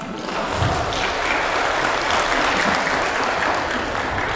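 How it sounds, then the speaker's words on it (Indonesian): Steady, dense applause from women in a seminar audience, sustained at an even level throughout without a break. "Aplaus perempuan."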